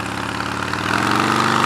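A Harley-Davidson motorcycle with loud aftermarket pipes idles close by, a steady low throbbing engine note that swells slightly louder toward the end, with no talking over it.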